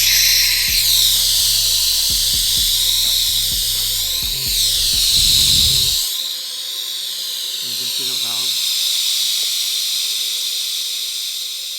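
A pump screwed onto a carbon fibre travel case draws the air out, giving a loud, steady hissing whine with pulsing mechanical chatter at first, then a smoother drone to the end.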